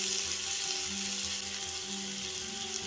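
Cooked vegetables for cabbage Manchurian hiss in a hot pan as vinegar is poured over them, an even, close sizzle with faint stirring and no voices.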